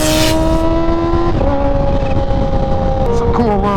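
A nearby Indian Scout motorcycle engine runs with a steady, loud droning hum, its pitch dipping slightly a couple of times.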